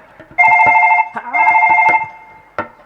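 A telephone rings loudly and close by during a Chhattisgarhi nacha folk comedy stage show: two sustained electronic ring bursts, each about half a second, then a brief third chirp, with faint voices and knocks around them.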